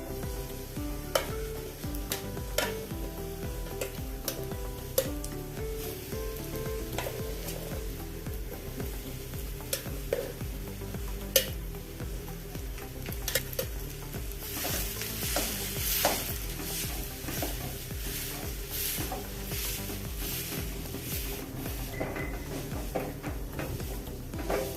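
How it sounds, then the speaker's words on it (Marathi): Chopped dates soften in a spoonful of ghee in a kadai, giving a steady sizzle with repeated scraping and clinking of a spoon stirring against the pan, close and continuous. "कढईमध्ये 1 चमचाभर तूप टाकलं आहे. त्यामध्ये हा खजूर आपण मऊ करून घेणार आहे"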